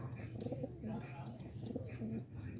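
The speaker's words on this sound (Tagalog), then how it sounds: "Daming kalapati." Pigeons coo in soft, repeated low warbles amid a steady background murmur, with faint voices nearby.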